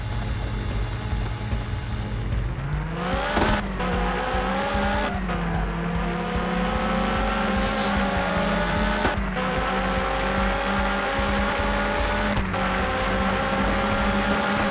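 Race cars driving in the PS1 game Die 24 Stunden von Le Mans, a steady loud engine drone that climbs in pitch through gear changes, with sharp bumps and tire squeals recurring every few seconds.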